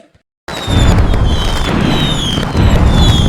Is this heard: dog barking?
no